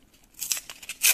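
A small paper surprise packet holding puzzle pieces is torn open in a quick, close burst of crisp ripping and crinkling lasting about a second.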